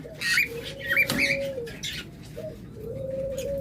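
Caged pet birds kept for sale, including cockatiels, lovebirds and budgerigars, coo and chirp nearby, with soft tonal calls and scattered high chirps.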